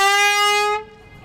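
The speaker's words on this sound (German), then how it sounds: "Mit dieser Hupe." A loud, tonal warning horn sounds one long, sustained blast ahead of a brick chimney demolition by explosives, then cuts off abruptly, leaving faint background noise.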